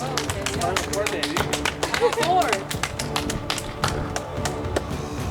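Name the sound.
group clapping hands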